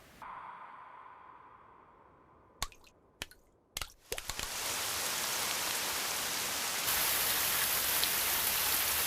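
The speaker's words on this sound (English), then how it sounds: "the explosion made it rain" Rain from an explosion in the Halo Legends animation, starting with a few sharp splashy drops and thumps before settling into a steady, dense downpour that fills the rest of the scene without speech.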